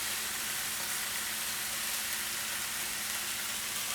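Glazed salmon frying in a pan, a soft, even, continuous sizzle with no voices.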